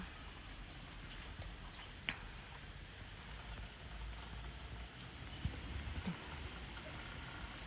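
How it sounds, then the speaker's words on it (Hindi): Steady rain falls outside an open window over a back garden, a continuous dense patter with a few sharper drips, heard from indoors at moderate level with no talking. "यहाँ पर बारिश हो रही है कितनी अच्छी।"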